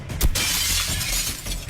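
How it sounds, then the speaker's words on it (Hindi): A glass pane shatters during a challenge game: a sudden sharp crash followed by a bright, sustained spray of tinkling shards, loud and close, with no speech. "ये कांच तो चकनाचूर हो गया"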